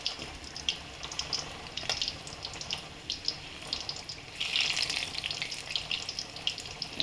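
Ridge gourd pakoda batter frying in hot oil, a steady close sizzle with crackling bursts that swell louder midway, without any talk.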